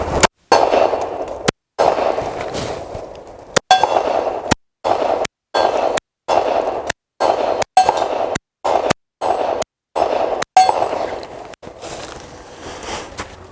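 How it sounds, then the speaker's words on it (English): Twelve 10mm 180-grain Fiocchi rounds fired at a steel target outdoors: loud sharp reports in an irregular sequence, each followed by a ringing metallic clang of the steel plate, with brief silences between shots. "let's give it 12 rounds of 10mm, 180 grain Fiocchi at that steel target"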